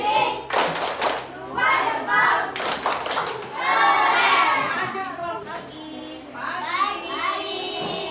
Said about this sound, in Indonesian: Kasih tepuk yang kuat